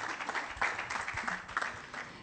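Applause patters at a distance, a soft, steady spread of clapping from an audience at a cultural conference in Palermo, with no voices standing out.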